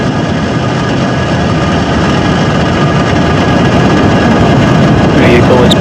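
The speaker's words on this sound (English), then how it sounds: "Ignitions. Engines full power. And liftoff." A SpaceX Falcon 9 carrying Project Kuiper satellites lifts off from Cape Canaveral, Florida, its engines producing a loud, continuous broadband roar with a deep rumble that holds steady throughout.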